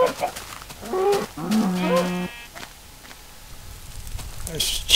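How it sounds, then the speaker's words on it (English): A cow in the Minecraft video game lets out short low moos amid game sounds and a brief tonal chime, with a hit sound as the animal is attacked and faint background noise. "I'll just kill this innocent cow for you"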